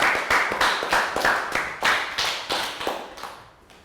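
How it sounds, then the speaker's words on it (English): A handful of people clap in an uneven rhythm, about a dozen distinct sharp claps that gradually fade toward the end. "Round of applause."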